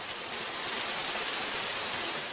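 An artificial waterfall at a hospital gives a steady, dense hiss of falling water, continuous and even for a couple of seconds.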